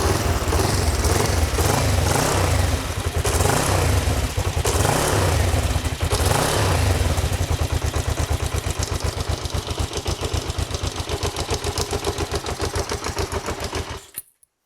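A Kawasaki GPZ 500S motorcycle left standing for four years runs loudly up close with a throbbing idle that tightens into rapid, even pulses before cutting out near the end.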